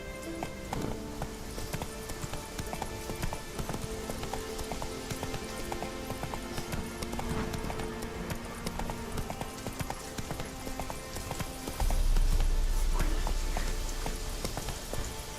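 A horse gallops in the video game The Witcher 3: Wild Hunt, its hooves clip-clopping in a quick, steady rhythm against a busy background of game ambience, with a louder low rumble swelling near the end.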